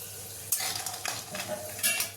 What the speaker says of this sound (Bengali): তেলটা খুব ভালো করে গরম করে কলাইয়ের ডালের বড়িগুলো আমি ভেজে দেবো লাল লাল করে